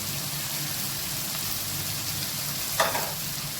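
Corned beef sautéing in a pan, a steady close sizzle and crackle throughout with one brief louder stir or scrape near the end; no talking.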